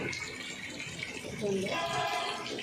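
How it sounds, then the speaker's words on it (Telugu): Water poured onto potted plants at home, a steady splashing gush that grows slightly louder partway through and continues without a break. "ఇప్పుడైతే నీళ్ళు వాడుతున్నాను చెట్లు ఉన్నాయి కదా ఇప్పుడైతే నీళ్ళు పోస్తా"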